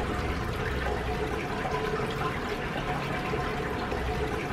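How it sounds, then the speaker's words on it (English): Water drawn from a cup with a syringe while measuring the output of a gravity-fed automatic water refill for aquariums and ponds, heard as a continuous close trickling and slurping liquid noise with no talking. "now we have to measure the volume of water in the cup with a syringe"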